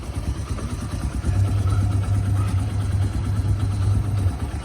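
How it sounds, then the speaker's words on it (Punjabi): A motorcycle engine idles close by with a low, steady throb and a slight rev partway through; nobody talks. "ਆ ਦੀਦੀ ਦੇ ਰਿਕੂ ਦਾ ਮੋਟਰਸਾਈਕਲ"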